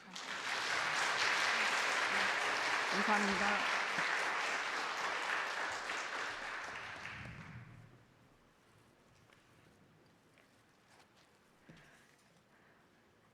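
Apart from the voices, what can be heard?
applause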